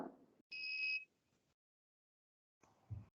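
A single short electronic buzz from a motion-sensor robotics project, loud and steady for about half a second, then quiet with faint voices at the start and end.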